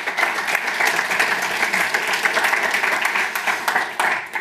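Loud, sustained applause from a conference audience greeting a presenter at a Qt industry session, a thick, even roar of many hands clapping close by throughout.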